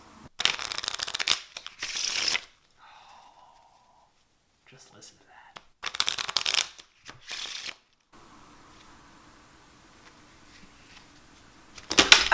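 Virtuoso playing cards being shuffled close up in loud riffling bursts, several separate shuffles with quiet pauses between them and a faint low hum underneath.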